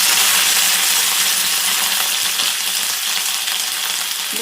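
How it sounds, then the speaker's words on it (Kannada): Onions go into hot oil with mustard seeds and sizzle loudly and steadily, a dense close crackle lasting several seconds with faint stirring beneath. "ಈರುಳ್ಳಿ ಹಾಕ್ತಾಯಿದ್ದೀನಿ"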